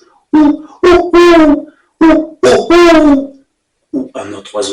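Several loud, close hooting calls in short bursts, separated by brief silences, like an owl or a voice imitating one.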